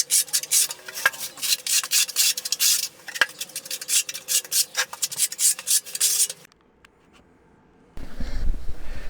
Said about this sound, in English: I'm just feathering where the seam is, so it's a nice flat transition.